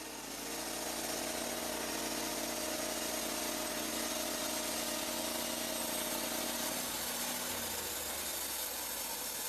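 A Lumber Pro manual sawmill engine runs with a steady mechanical drone and a constant hum, shifting in tone near the end, with no voices.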